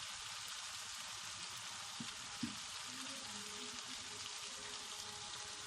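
Steady, loud sizzling and crackling as a cup of water is added to fried fish in a hot pan for a Chinese fish soup, a continuous hiss with a couple of faint clinks, no voices.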